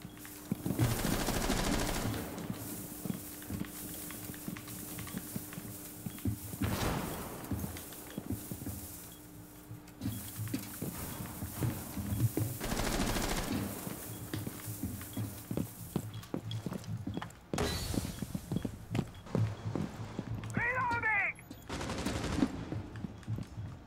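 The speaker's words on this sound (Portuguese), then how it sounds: "a 12 da Frost, melhor arma do jogo" Repeated gunfire from the Frost's 12-gauge shotgun in the Rainbow Six Siege video game, loud bursts recurring across a busy match with footsteps and other game effects between them.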